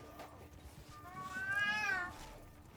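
A cat meows once in a drawn-out, rising and falling call, fairly faint and close, over a low background murmur.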